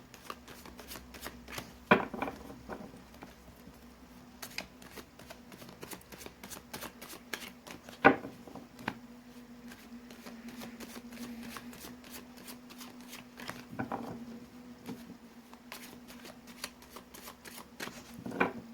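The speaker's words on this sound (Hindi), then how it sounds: "मैंने कर लिए कार्ड्स की सफलिंग" Tarot cards are shuffled by hand in a quiet room, with soft riffling and repeated sharp card snaps and taps spread irregularly over a long stretch, with no talking.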